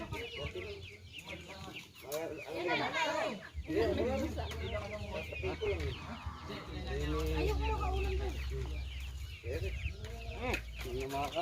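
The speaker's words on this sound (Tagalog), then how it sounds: "Okay, mga manok eh." Chickens cluck and cackle nearby in repeated bursts, mixed with people talking over them.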